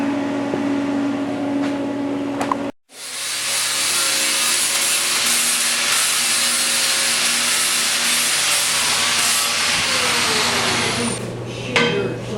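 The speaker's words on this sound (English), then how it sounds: "I'll grind that off, clean it up a little bit" An angle grinder working metal on a rat rod body, a loud continuous high whine and rasp that cuts out briefly and then resumes for a long sustained grind, close by with no talk.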